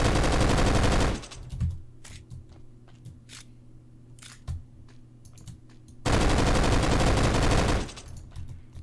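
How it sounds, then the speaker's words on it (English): Fully automatic weapon in a video game firing two sustained bursts of rapid gunfire, each lasting a second or two, separated by a quieter stretch of scattered clicks and small mechanical taps. "Here's a fully automatic weapon."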